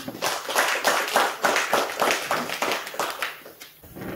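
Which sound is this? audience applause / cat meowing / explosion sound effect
audience applause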